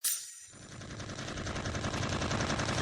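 Rifle gunfire in a dramatized battle scene: a sharp opening blast, then dense, rapid automatic fire that rattles on continuously and loudly to the end.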